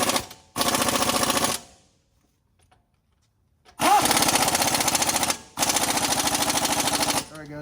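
Impact wrench or power tool rattling in two long bursts separated by a pause, tightening a control arm bolt on a 2007-2018 Chevy/GMC truck during lowering control arm installation; loud, close and mechanical, with a brief voice between bursts.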